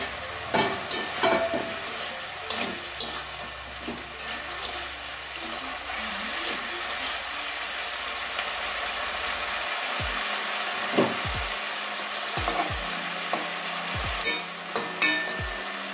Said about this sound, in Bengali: এবারে ঢাকনাটা খুলছি, নাড়িয়ে দেবো একবার।